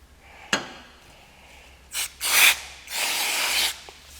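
Ordinary brake cleaner sprays in short hissing bursts onto Subaru center differential parts and a washer, with a brief burst followed by two longer broadband sprays, close and fairly loud.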